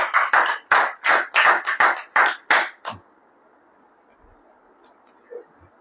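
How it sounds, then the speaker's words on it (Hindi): Congregation clapping hands at a Hindi-language Christian worship service, about ten loud, rhythmic claps in quick succession over three seconds, then near silence. "तालियां ले बजाइए जरा।"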